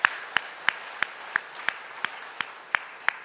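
Steady rhythmic clapping at roughly three beats per second, crisp individual hand claps from a church congregation during a Sunday morning worship service, fairly close and unaccompanied by talk.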